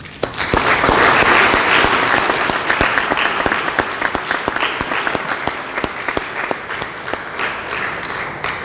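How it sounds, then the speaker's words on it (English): Graduates and guests at a commencement ceremony give a loud, sustained round of applause with sharp individual claps, tapering off toward the end. "So please join me in giving a round of applause for the RMA faculty, your family members, and your friends"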